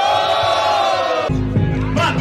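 A crowd at a rap battle roars and shouts in unison, loud and sustained, with a sharp surge of massed voices halfway through that stays dense to the end.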